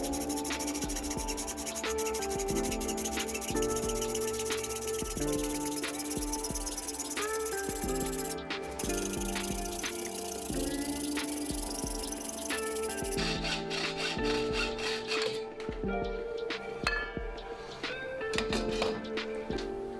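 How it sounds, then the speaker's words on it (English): A hacksaw cuts through the aluminum profile of a Plastimo furling system aboard a sailboat, giving a steady back-and-forth rasping rhythm of strokes at close range, with scattered clicks and taps as the cut progresses. "I got out my hacksaw and cut it perfectly straight"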